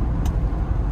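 A car on an auction test drive at Manheim, steady low engine and road rumble from inside the cabin, brief and continuous with no voices.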